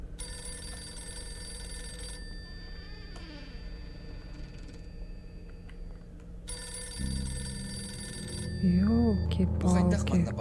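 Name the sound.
telephone ringing in a Yakut horror video game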